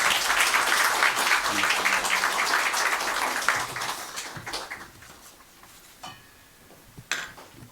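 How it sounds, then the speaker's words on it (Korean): An audience at a declaration ceremony applauds to welcome a pastor to the stage, strong clapping for several seconds that thins into scattered claps, with a few louder single claps near the end. "박수로 맞이해 주세요."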